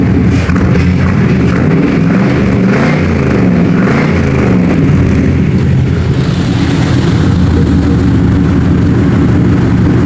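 A Dodge engine revs hard through a freshly welded exhaust, a loud, steady low rumble with rising and falling pitch that holds for about ten seconds, close to the pipes with no voices.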